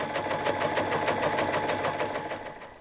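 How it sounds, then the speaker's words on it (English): A sewing machine stitches elastic onto fabric, running in a steady, continuous rapid whir of needle strokes at close range that tapers slightly toward the end. "guide the fabric with your other hand and just begin stitching"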